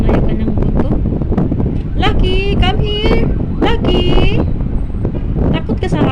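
Strong wind buffets the microphone with a loud, continuous rumble while people talk over it.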